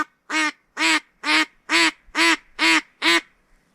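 A teal drake on a remote wilderness river calls seven times in a row, loud and close. The nasal, evenly spaced calls each last about a third of a second, with short silent gaps between them.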